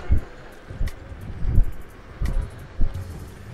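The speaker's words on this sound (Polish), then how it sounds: "O, ale wieje teraz, co?" Gusty wind buffets the microphone in uneven bursts while riding a Laotie ES10P electric scooter, with low rumbling thumps rising and falling over a few seconds.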